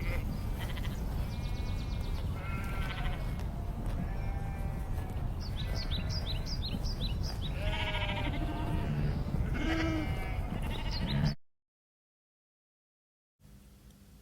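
British sheep bleat again and again over a constant background rumble. Several animals call in overlapping, wavering cries, then the sound cuts out abruptly near the end.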